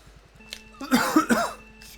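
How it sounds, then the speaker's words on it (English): A person at a computer lets out a short burst of two or three rough coughs in quick succession, close and moderately loud, over a faint steady background hum. No one speaks. "I just coughed all over my screen."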